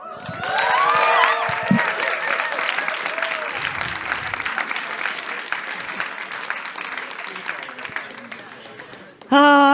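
A crowd at an elevator pitch contest breaks into loud applause with some cheering and shouts, sustained for several seconds before tapering, with a voice speaking at the start and end.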